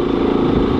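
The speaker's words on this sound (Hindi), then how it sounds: "कोहरे की वजह से बाइक बहुत ही धीरे चला रहा हूँ" Motorcycle moving slowly at night in heavy fog on a winter road ride, a steady low engine drone that stays loud and constant throughout the short stretch, with no speech.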